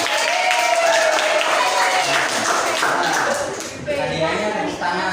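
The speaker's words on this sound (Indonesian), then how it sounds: "Hadiahnya tepuk tangan ya" A classroom of students claps during a practice Islamic religious education lesson, a busy, fairly loud patter of many hands that carries on for several seconds and dips briefly before resuming.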